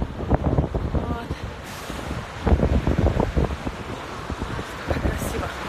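Strong cold wind gusts across an open waterfront where swans and gulls gather, buffeting the microphone with a loud continuous roar and rumbling bursts while someone talks over it.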